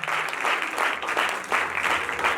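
An audience at a church sermon claps steadily, a dense, continuous patter of many hands, loud and close, holding throughout the brief stretch.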